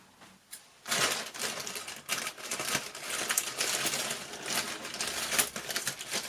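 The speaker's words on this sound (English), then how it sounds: "So I'm just snipping away" Scissors snip open a plastic parcel bag holding an AliExpress doll, giving a steady run of close, crisp cuts and crinkles with no talking.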